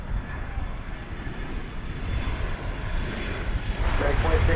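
A jet airliner, a flight arriving from Los Cabos, coming in at DFW Airport, its engine roar a steady broadband rumble that swells gradually louder over several seconds, heard from outdoors at a distance.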